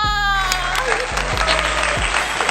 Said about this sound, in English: just give us a round of applause